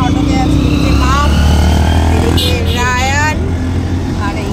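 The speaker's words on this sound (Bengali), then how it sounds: "এখন অটোতে আছি" Inside a moving auto rickshaw, a loud continuous engine drone and road rumble fill the cab while a passenger talks over the noise and traffic sounds pass by.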